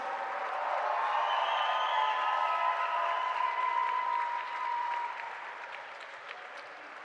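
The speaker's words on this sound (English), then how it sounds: "One more time, big round of applause." An arena audience at a national climbing championship applauds the semifinalists with sustained, full clapping that holds steady for several seconds and then tapers off.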